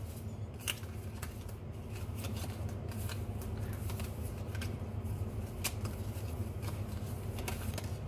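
Tarot-style playing cards are shuffled and drawn, giving soft papery riffles and flicks at close range over a steady low background hum.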